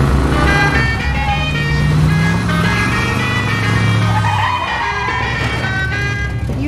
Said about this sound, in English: You stole a food truck?